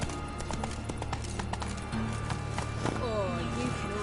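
Roach, the horse in The Witcher 3, gallops with quick repeated hoof clops, close and prominent over in-game music and ambience, with a voice briefly heard.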